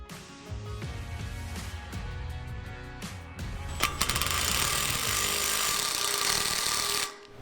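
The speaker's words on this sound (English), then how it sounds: "Why are you hand drilling when there's a drill press right there?" Step bit hand-drilling metal for off-road wrecker games: a continuous, loud grinding whir that runs steadily for several seconds after some earlier clanking and tool handling, then stops abruptly.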